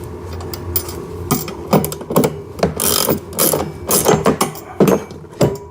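A nut being tightened down onto washers over a screw on a ride-on RC car: a close run of quick, uneven ratcheting clicks and metallic rattles in short bursts, with no talking.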